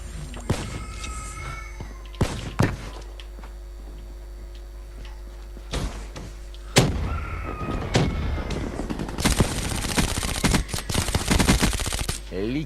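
In Black Ops 3 gameplay on PS3, gunshots crack out singly, then a dense rattling burst of rapid fire arrives near the end, with clicks and game effects between.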